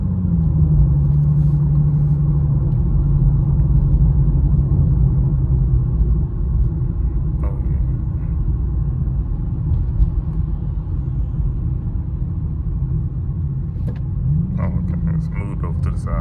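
City bus rumbling through stop-and-go morning traffic, heard from inside as a continuous loud low engine drone with faint background voices.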